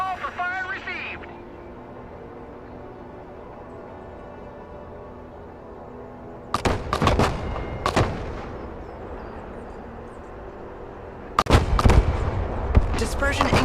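Artillery fire mission in the video game Broken Arrow: a quiet, humming stretch after a brief radio-like voice, then two bursts of heavy booming impacts in rapid clusters, the second louder.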